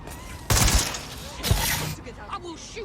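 Gunfire in the video game Watch Dogs Legion comes as two loud, close bursts of rapid shots about a second apart, followed by quieter clicks and rattles.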